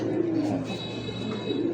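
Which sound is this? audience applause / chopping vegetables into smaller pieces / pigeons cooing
pigeons cooing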